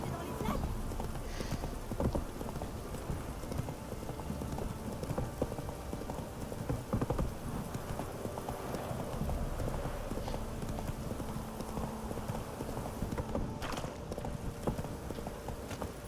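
Horse hooves clip-clop steadily at a walking pace in The Witcher 3 under a constant background hum, with a voice talking over them at times.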